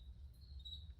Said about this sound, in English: We just have crickets in the garage